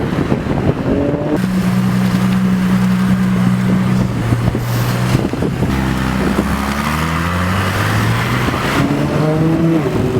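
A Ferrari LaFerrari Aperta drives along a London street near Oxford Street, its loud, steady engine note rising and falling in pitch throughout, mixed with wind buffeting.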